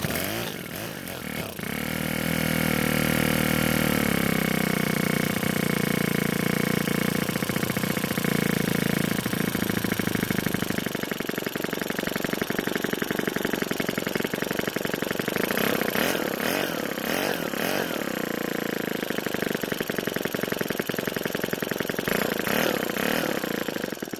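A Ryobi 4-cycle string trimmer with a faulty carburetor starts with a pull, then its small engine runs loud and close with a buzzing drone that revs up and down before settling.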